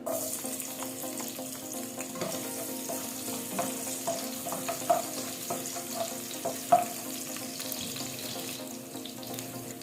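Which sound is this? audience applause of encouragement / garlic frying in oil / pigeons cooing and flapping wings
garlic frying in oil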